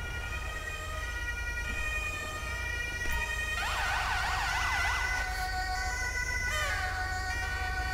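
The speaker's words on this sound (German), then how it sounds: "Habt ihr es gehört gerade mit der Sirene, was die gemacht hat?" A police siren in Grand Theft Auto 5 wails in a rising and falling pattern over steady engine hum and road noise, loud and close, with no one speaking.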